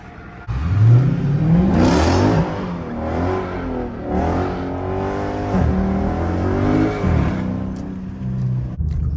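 A loud Dodge Charger Scat Pack engine revs hard during a burnout and climbs in pitch, holding a high roaring whine with repeated surges, close by and steady for several seconds.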